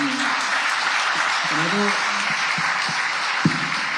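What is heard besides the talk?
audience applause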